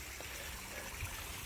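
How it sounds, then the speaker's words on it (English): Water from a koi pond filter trickles down a small stone-lined stream back into the pond, a faint, steady outdoor babble with low rumble underneath. "That's the water that comes out of the filter back into the pond."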